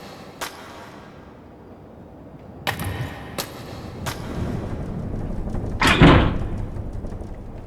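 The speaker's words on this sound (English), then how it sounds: "I heard a noise like something slamming against the door." Something slams against a door in the horror game Death Mark, a series of heavy thuds and bangs, the last one loudest, over dark ambient noise.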